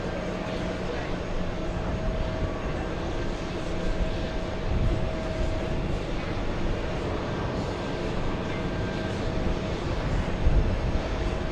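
An Air Europa airliner landing at JFK in a crosswind, a steady, moderately distant jet rumble with a faint tonal whine, holding fairly even throughout.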